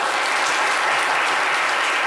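Studio audience applause on a live talk show, a steady, dense wash of clapping throughout, close and fairly loud, with no voices over it.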